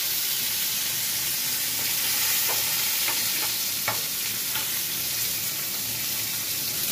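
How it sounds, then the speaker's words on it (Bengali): Carrots and other vegetables fry in a pan with a steady hiss, while a utensil scrapes and taps a few times against the pan partway through. "গাজর দিয়ে ভেজে নেব।"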